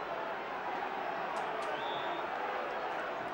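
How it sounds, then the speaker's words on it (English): Football crowd at a 1977 West Ham match booing the referee, a steady dense roar of massed voices filling the stadium without pause, fairly loud and continuous. "The boos are for the referee"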